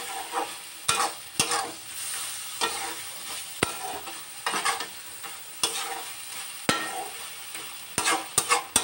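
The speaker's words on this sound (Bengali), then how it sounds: "দিয়ে ভালো করে আবার আমি খুন্তির সাহায্যে ভালো করে আমি নাড়িয়ে নিচ্ছি" A spatula scrapes and stirs sour prawn curry with garam masala in a sizzling pan, sharp repeated strokes knocking every second or so over a constant frying hiss.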